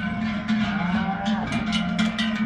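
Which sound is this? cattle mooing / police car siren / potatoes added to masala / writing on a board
cattle mooing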